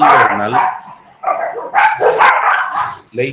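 A dog barks in a few short bursts, close and fairly loud, with brief pauses between the yelps.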